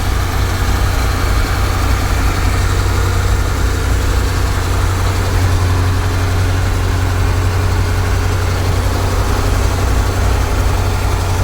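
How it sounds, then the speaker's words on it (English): A Sea Ray 210 Monaco boat engine, just repaired and running out of water, idles with a steady low rumble and constant vibration, loud and close, with no talking. "This engine right here, we just repaired it."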